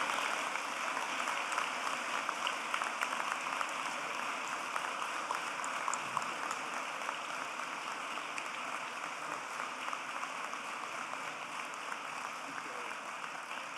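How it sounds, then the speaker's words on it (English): A dense, steady patter of clapping from a large commencement crowd continues without pause, evenly loud throughout. "Please give a round of applause to these Govians."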